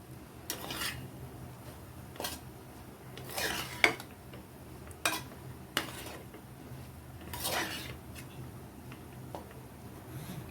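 A spoon stirs tomato rice in a cooking pot, giving irregular scraping and knocking clinks spaced a second or two apart against a quiet background hum.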